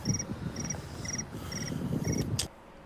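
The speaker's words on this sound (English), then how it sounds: "I didn't even realize the crickets chirping in the background" Crickets chirp in steady repeated bursts, a high, regular trill in the background of an indoor live studio broadcast over a low murmur, ending with a brief sharp sound.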